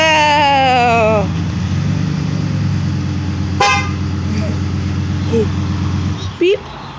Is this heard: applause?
no